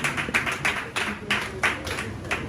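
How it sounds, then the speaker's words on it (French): Wedding guests in Dakar clap for the couple, rhythmic bursts of applause from a modest crowd rising and falling across the moment, fairly close and without talk. "On acclame très fort encore pour ce couple."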